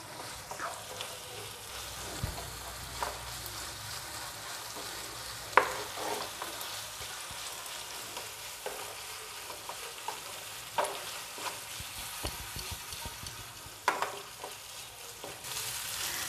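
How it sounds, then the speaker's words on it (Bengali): Chicken masala sizzles softly over a medium flame for a Bengali pointed gourd dish, with a spoon scraping and stirring the pan in irregular taps, quiet and close. "ভালো করে কষিয়ে নিতে হবে। আমার ফ্লেম মিডিয়ামে আছে"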